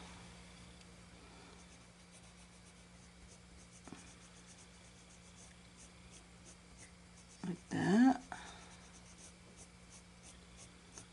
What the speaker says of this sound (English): Use more pressure when you first put your pencil down and then lift it up as you pull away.